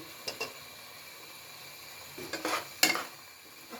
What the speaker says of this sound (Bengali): এখন মশলার সাথে এগুলো মিলিয়ে নিচ্ছি।